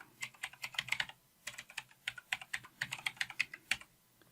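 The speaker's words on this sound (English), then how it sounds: "we're going to type in the name of our server" Keys clatter on a computer keyboard as a server name is entered in a Windows Server 2016 setup, a close, brisk run of uneven keystroke bursts with short pauses and no talking.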